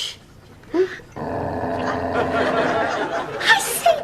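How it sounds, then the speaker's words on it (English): A dog growls low and continuously for a few seconds, close by, with brief human sounds and a little laughter around it. "Jeremy, do you realise he growls every time I kiss you"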